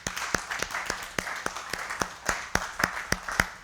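A church congregation claps in a steady, even rhythm, sharp claps falling roughly three or four per second. The acclaim for the Lord is fairly close and continues throughout with no talking over it.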